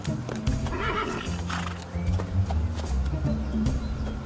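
A horse whinnies loudly up close while hooves clop on hard ground, the neighs rising and falling over a few seconds.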